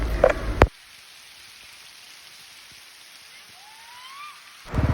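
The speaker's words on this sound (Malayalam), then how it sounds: "അപ്പം അവിടെ എത്തിയപ്പോൾ തന്നെ നല്ലൊരു മഴ, കിടിലൻ മഴ." Heavy rain falls outdoors in the hill country of Nelliyampathy, Kerala, as a steady soft hiss, bracketed by louder rough bursts at the start and end.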